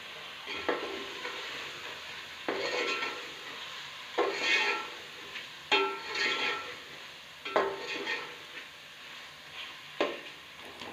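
Frozen chicken sizzles in frying masala in a pan, loud and close, as a spoon stirs it in repeated scraping bursts roughly every one to two seconds over a steady background hiss.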